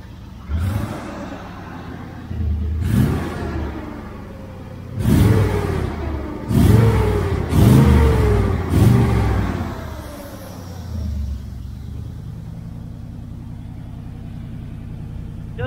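A 1968 Chevelle Nomad fitted with new chrome sidepipes, revved several times at close range: deep, loud bursts rise over a rumbling idle, bunched near the middle, then the engine settles back to idle.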